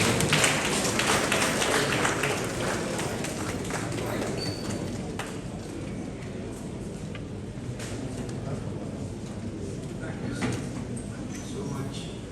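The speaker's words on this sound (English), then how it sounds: "with a big round of applause" A crowd at a formal Ghanaian parliamentary gathering gives a long round of applause for Speaker of Parliament Alban Kingsford Bagbin, a dense, loud wash of clapping that stays steady for the whole stretch.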